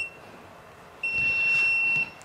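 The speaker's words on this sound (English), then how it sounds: "And then it beeps when it's done." A Sunlu filament connector gives one steady, high electronic beep when it finishes joining 3D printer filament, ringing for about a second, clear and close, against a quiet background.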